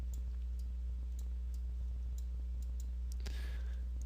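A computer mouse clicks repeatedly in dental design software, giving sharp, evenly spaced ticks over a steady electrical hum. A brief rustle comes near the end, and no one speaks.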